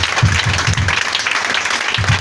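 A church congregation claps together during a sermon, a steady, dense patter of many hands that fills the room, loud and close, with no talk over it.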